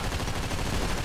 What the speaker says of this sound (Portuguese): Errei um monte de tiro nesse cara.